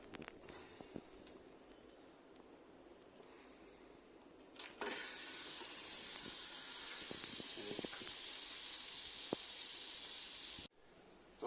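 A small knob of butter melts in a pan before an omelette, and a steady soft hiss of sizzling rises suddenly and holds, faint and close, with no talking.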